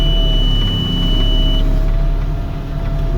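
Inside the cab of an MB multi-function machine, the plow lock indicator buzzer sounds as steady electronic tones over a constant low engine drone, fairly loud and with no talk.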